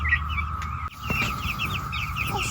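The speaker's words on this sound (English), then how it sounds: "Just feeding the little chicks" Chickens and small chicks cluck and chirp in a farmyard during feeding, with short repeated calls close by over a steady background, and a brief dip partway through.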